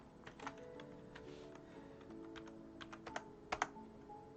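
Faint, irregular clicking of computer keyboard keys, a scattered string of light taps that builds to a few sharper strokes near the end, close but quiet.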